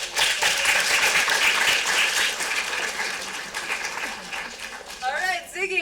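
An audience at a young playwrights' festival cold reading applauds after a play reading, dense sustained clapping from a crowd that fades toward the end as a voice begins to speak.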